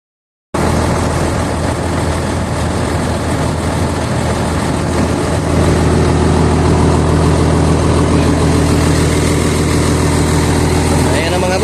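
A Komatsu D65EX-15 bulldozer, its hydraulic pump just repaired and resealed, starts up and runs with a loud, steady diesel drone and low rumble that strengthens partway through, with a voice heard over it.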